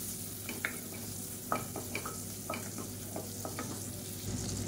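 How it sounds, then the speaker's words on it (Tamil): Fennel, curry leaves and mint sauté in hot butter for a horse gram powder recipe, with a steady soft sizzle under repeated scraping stirs of a spoon in the pan, close and moderately quiet. "நல்லா வதக்கி விட்டுக்கலாம்."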